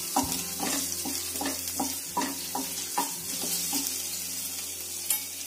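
Ginger dropped into hot garlic oil for momos sizzles steadily in a pan, with a run of close, sharp stirring taps and scrapes over the continuous frying hiss.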